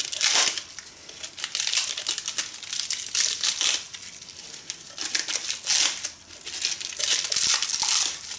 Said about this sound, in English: Unwrap these rails.